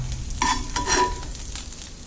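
A burger sizzling on a flat top griddle with bread, cheese, patty and caramelized onions, a steady close frying hiss broken by short scraping stirs of a spatula.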